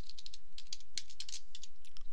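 Rapid typing on a computer keyboard while entering an email address and password, a steady run of close, crisp key clicks with brief pauses, no voice.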